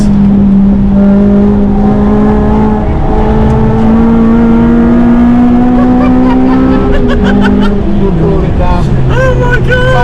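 A Nissan GT-R and a Porsche race at Snetterton Race Circuit, their engines roaring loud and close as they pass on track, pitch climbing steadily before dropping away, with a person talking over the noise.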